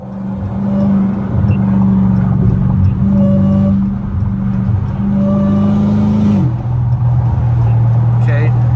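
Loud car engine droning steadily while driving, a deep close hum that shifts pitch lower partway through as the car changes speed, with occasional faint voice.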